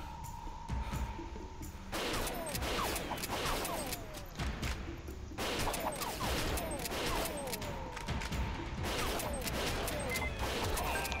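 Shotgun fire in the PC action game Major Mayhem: dense, continuous bursts of shots and impacts layered over busy game sound, loud and relentless for the whole stretch.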